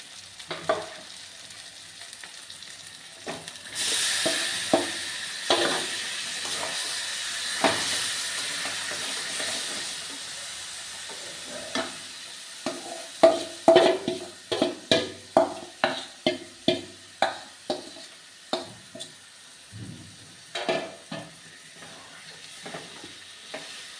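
Marinated meat goes into a hot pan and fries with a steady sizzle, then a run of sharp, rhythmic stirring scrapes and clatters builds near the end, all close by with no talking.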